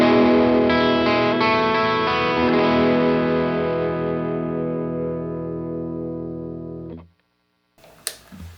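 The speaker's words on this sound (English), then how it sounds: "let's take a listen to the bridge pickup of this guy with some overdrive on" A distorted electric guitar chord through a Lindy Fralin Noiseless Jazzmaster bridge pickup with overdrive rings out and sustains, slowly fading over several seconds before being cut off, followed by a brief click.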